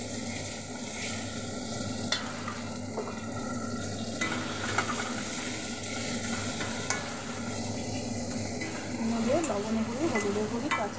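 Potatoes sizzle steadily in a hot pan on a gas stove, with intermittent scraping and clinks of a spoon stirring against the pan, close and continuous.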